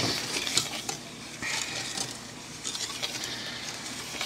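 Heavy whipping cream being mixed into cocoa and sugar in a bowl for chocolate frosting, with soft irregular scraping and clinking of a utensil against the bowl, close and fairly quiet.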